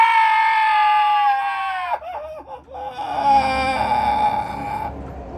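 Child screaming and wailing for candies, a loud drawn-out high cry that breaks off briefly, then resumes in shrill sobbing bursts.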